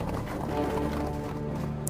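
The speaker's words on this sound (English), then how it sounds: "Wait, they have horses?" Horses' hooves clip-clopping in a steady, muffled rhythm beneath a bed of music, constant in level throughout.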